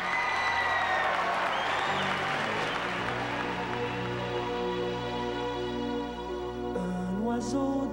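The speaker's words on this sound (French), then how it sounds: "applaudissons-les très très fort" A theatre audience applauds at a 1988 televised concert, sustained and fairly loud, while a band begins playing music underneath and grows more prominent as the clapping continues.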